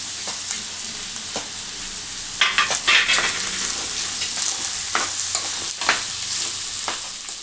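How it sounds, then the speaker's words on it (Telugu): Schezwan egg fried rice being stir-fried in a pan with spring onion, vinegar and sauces added, giving a steady sizzle broken by repeated scraping and tossing strokes of a spatula, close and loud with no talk. "దీంట్లోనే కొంచెము వెనిగర్, ఇవన్నీ ఒకసారి కలుపుకొని ఇప్పుడు స్ప్రింగ్ ఆనియన్ వేసుకోవాలి."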